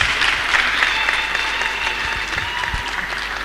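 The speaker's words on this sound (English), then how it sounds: "Can you clap for the sister there?" Applause from the audience at a commencement lecture as graduates' names are read, a full, even burst of many people clapping with a faint voice underneath.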